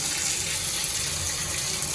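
Water running from an old Delta shower fixture in a hotel bathroom, a steady hissing gush that stays constant and close throughout.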